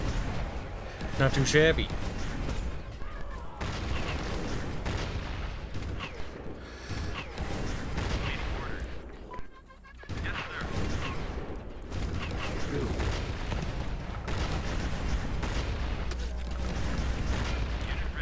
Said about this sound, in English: Now we're lobbing artillery.